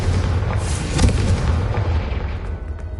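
A Confringo spell exploding in Hogwarts Legacy on PS5: a loud, close burst with a deep rumbling boom that rolls on and slowly fades over a few seconds.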